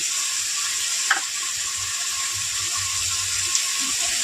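Spice paste for boal fish curry frying in oil in a pan, a steady close hiss with a couple of brief scraping stir clicks, no talking.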